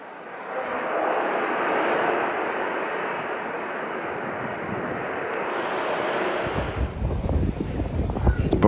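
An old KLM airliner leaving St. Maarten, its jet engines giving a steady, loud broadband roar that holds for several seconds before shifting into rougher, gusty rumbling near the end.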